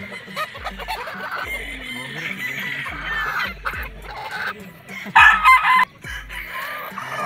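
Several game-farm battle stag roosters crow repeatedly from near to mid distance, overlapping one another amid background clucking on a busy farm, with one loud close crow standing out.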